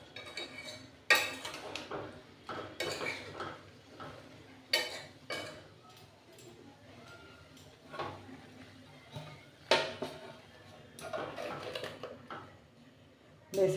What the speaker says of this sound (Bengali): বেশ একটু চেপে ঢাকাটা দিয়ে দিলাম